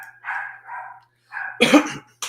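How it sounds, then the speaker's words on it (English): Dogs barking in a home, a few short yips and barks with one louder burst near the end, fairly close and clear against a quiet background. "The dogs are barking at something."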